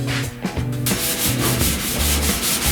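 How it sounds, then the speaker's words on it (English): Steady, close scraping strokes of a sanding block rubbing back and forth across the door and fender panels of a 1969 Chevrolet C10, loud and rhythmic with no voices. "you haven't spent hours hunched over the side of a car block sanding"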